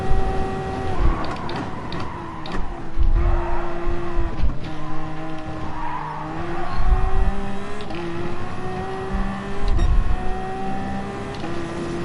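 Race cars lapping Le Mans in Gran Turismo Sport, including a Toyota and a Peugeot, engines droning steadily with shifting tones and rising and falling pitch, loud and continuous with occasional clunks and scrapes.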